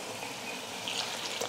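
Water poured into a mixer grinder jar to rinse out leftover batter, a soft steady splashing and trickling close by, with no talk over it.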